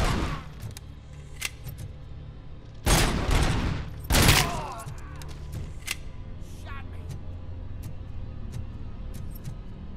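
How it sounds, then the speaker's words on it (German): Enemies open fire in RoboCop: Rogue City: two loud bursts of gunfire stand out among scattered sharp shots and clicks, while a player talks throughout. "Oh, jetzt schießen die ja wirklich."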